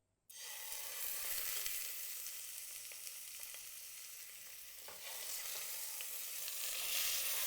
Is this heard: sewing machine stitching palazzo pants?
no